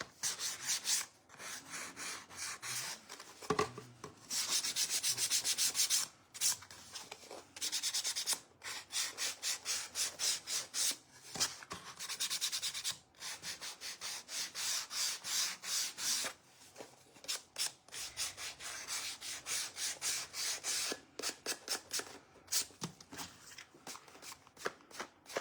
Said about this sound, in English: take the sandpaper and just lightly drag it along